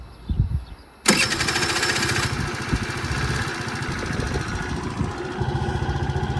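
A Mondial Wing 50cc scooter engine starts abruptly and runs with a steady, buzzing putter up close, loud and continuous after a brief quieter moment.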